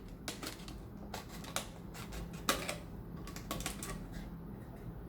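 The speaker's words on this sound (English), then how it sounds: "Now I have taken a plastic bottle and I'll start cutting the plastic bottle" A plastic bottle being cut makes faint, irregular crisp clicks and snips, close but quiet, with no talking.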